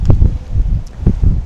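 Strong wind blows across an open baseball field during a game, buffeting loudly in repeated low gusts with rustling noise over the microphone.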